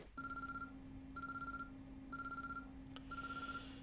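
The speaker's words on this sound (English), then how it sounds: "An urgent sounding ringing noise suddenly rang throughout the room." An urgent telephone ringtone in the Chaos;Head NoAH visual novel rings in four evenly spaced bursts with a steady electronic tone, sharp and clear over a low background hum.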